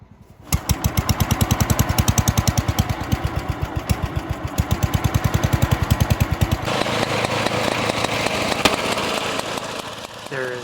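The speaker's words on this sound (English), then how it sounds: "There is nothing like watching these old sleds motor down the trail." Old rear-engine snowmobiles motoring down a snowy trail on a 100-mile group ride, loud rapid engine pulses close by, then a rougher mix of engines as another sled passes.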